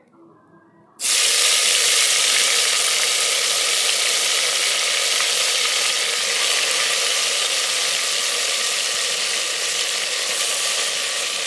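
Meat dropped into hot oil tempered with dried chilies, bay leaf and cumin in a clay pot on a clay stove, a sudden loud burst of sizzling that holds steady and slowly eases.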